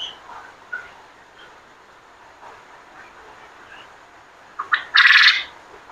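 Farm birds call at their morning feed; mostly quiet with faint scattered chirps, then a sudden loud, harsh squawking burst near the end.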